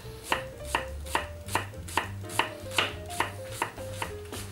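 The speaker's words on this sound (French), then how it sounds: "Et puis on va la couper dans l'autre sens pour en avoir des tout petits morceaux." A knife chopping a shallot into small pieces on a board, about a dozen sharp evenly spaced taps at a quick steady rhythm, close and alone.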